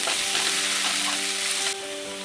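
Onions frying in a pan with salt give a loud, dense, continuous sizzle up close, easing slightly near the end.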